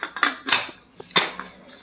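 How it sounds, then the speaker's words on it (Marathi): A metal lid clanks and rattles onto a pressure cooker pot of rice in a home kitchen, with several sharp close knocks followed by a quieter final tap. "भात परत एकदा ढवळून घेऊन त्याच्यावर मी झाकण लावत आहे"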